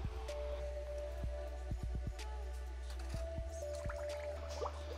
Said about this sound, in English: drop these parts into the soak tank that has heated degreaser in it